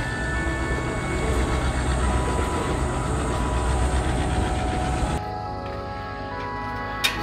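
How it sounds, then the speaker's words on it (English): Continuous rumble and clatter of the Kuranda Scenic Railway train near Cairns rolling along the rails, steady and close, softening abruptly near the end with a brief click. "Scenic Kuranda Railway."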